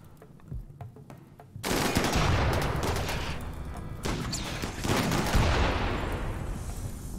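Turret gunfire in RimWorld: after a few sparse single shots, many guns open up at once into a loud, continuous roar of rapid automatic fire and explosions that keeps going without a break.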